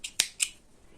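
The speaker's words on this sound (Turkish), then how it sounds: "Hemen şu ipimi şuradan kesiyorum. Şu koyu pembeyi." Scissors snip through dark pink yarn, giving a couple of quick, crisp close-up clicks with a lighter snip just before them, in a quiet room.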